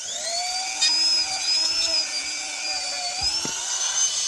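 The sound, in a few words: power tool polishing the edges around a rivet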